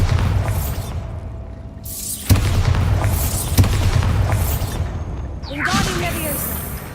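Bombarda blast spell going off in Hogwarts Legacy, a sharp boom near 2.3 s and another near 3.6 s over a dense, roaring game backdrop, with a whooshing magical swirl toward the end.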